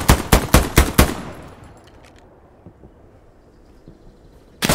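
Rapid bursts of automatic gunfire from the World War II shooter Hell Let Loose, five loud closely spaced shots up front, then a fading tail and quiet room tone before another sharp blast at the very end.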